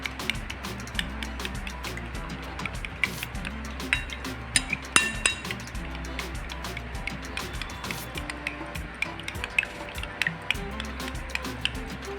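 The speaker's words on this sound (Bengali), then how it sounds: "এবার এগুলো খুব ভালোভাবে আমাকে ফেটিয়ে নিতে হবে যাতে মশলার দানা না থাকে।" Eggs beaten with spices in a bowl, the whisk or fork clinking steadily against the sides in quick irregular taps, close and fairly quiet, with no talking.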